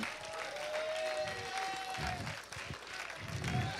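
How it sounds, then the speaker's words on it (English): Church congregation clapping hands during a lively worship service, a dense steady patter under sustained music tones, with an excited voice and a sharp burst near the end. "Come on, clap your hands, all ye people."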